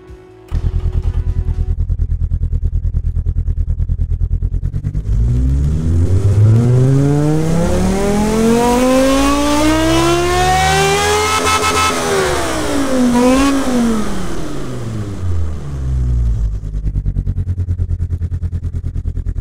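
A simulated inline five-cylinder engine with a huge turbocharger revs in the Automation car tycoon game, climbing steadily to a loud high-rpm howl, then dropping back and climbing again, alone and continuous.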